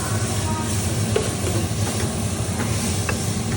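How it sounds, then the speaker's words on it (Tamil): Tomatoes sautéing in a pan with ginger for a home-style biryani, a steady close sizzle and hiss with faint stirring clicks throughout, no talking. "தக்காளியை போட்டு நல்லா வதக்கணும்."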